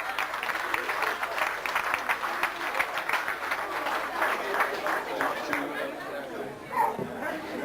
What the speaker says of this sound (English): Bit of a round of applause here.